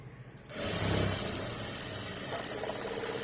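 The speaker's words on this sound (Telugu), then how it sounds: "ఇలా నీట్గా స్టిచ్ వేసేసుకోవాలి" A sewing machine runs steadily as it stitches the front panel of a princess-cut blouse with a shaped belt, giving a continuous close mechanical whir after a brief quieter start, with no talking.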